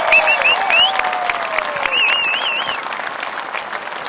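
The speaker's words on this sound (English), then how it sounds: "Let's give one more round of applause for the class of 2024." An audience at a high school graduation applauds the graduating class with steady, dense clapping and a few high whistles and cheers, fairly loud and fading slightly toward the end.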